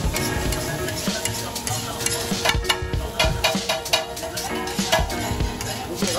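Eggs being mixed with water, salt and black pepper, a quick run of close clicking and tapping strokes in a steady rhythm, with a high electronic whine and background hum underneath.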